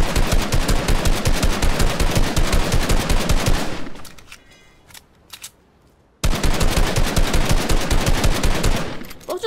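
Rapid automatic gunfire rattles in dense bursts in a Fortnite-style build-battle video game, loud and close, then drops to near silence with a few faint sounds before the spraying resumes at full intensity.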